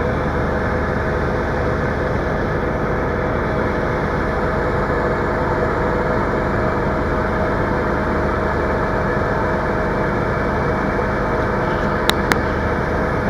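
A car engine runs at a steady, sustained raised speed of about 2500 RPM during an alternator charging test, a loud constant droning hum with no talk and a couple of faint clicks near the end.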